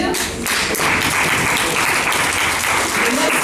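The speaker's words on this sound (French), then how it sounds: "On peut les applaudir." Dense, steady applause from a workshop audience thanking the presenters, loud and close, a continuous wash of many hands clapping at once for several seconds.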